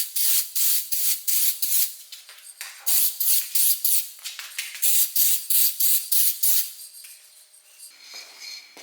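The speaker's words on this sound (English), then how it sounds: "this is just a simple clear varnish, clear coat. Let's do for sure 2 layers" Short bursts of clear varnish spray onto a car side mirror, sharp hissing puffs in a quick uneven rhythm, some brief and some longer, close and alone.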